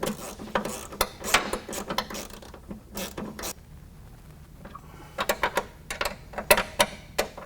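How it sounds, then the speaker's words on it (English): Ratchet wrench tightening the bolts that hold a Crawler Conceptz rear fender flare to the body panel of a 2015 Jeep JKU, giving bursts of rapid clicking that stop briefly and then resume, close and fairly loud. "I'm gonna go ahead and tighten up all the bolts that actually hold the fender to the body panel"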